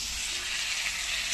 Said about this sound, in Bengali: আমি এখন পনিরের আলুটা কষে নিচ্ছি।